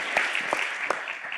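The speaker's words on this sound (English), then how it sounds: "Another round of applause for Harlan" An audience applauds at a panel discussion on economic reconciliation, a brief burst of dense, even clapping with a few sharper claps standing out nearby.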